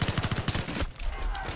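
Rapid burst of gunfire from a weapon in the video game Battlefield 3: a fast, evenly spaced string of loud shots during the first half, then a quieter stretch with a low rumble.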